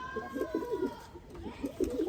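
Chapray pigeons cooing in soft, repeated low burbling phrases, fairly close, with a faint steady tone running behind them.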